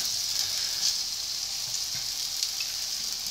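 A homemade buckwheat galette cooking in a hot pan gives a steady, soft sizzle, even and continuous, close by and without voices.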